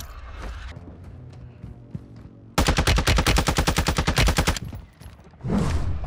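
Gunshots in a shooter video game, a few scattered shots followed by a loud sustained burst of rapid automatic fire lasting about two seconds, then a final blast, with no talk over it.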